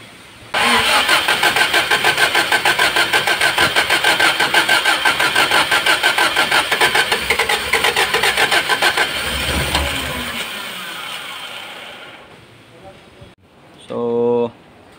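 A worn car engine after repair cranks with a rapid rhythmic churn, catches, and runs loudly before dying away, followed by a short burst of speech close by.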